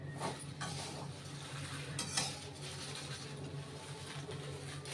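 Malvani masala spices roast over medium heat in a pan while being stirred, a soft continuous scraping with a few light clinks, quiet and close, with no talking.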